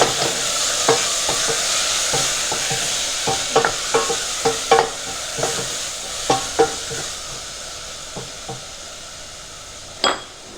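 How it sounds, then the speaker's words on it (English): Beef curry with potatoes sizzling in a pot while being stirred, with a constant loud frying hiss and repeated sharp scraping clinks of the utensil against the pot, close up and without speech. "Stir around a bit."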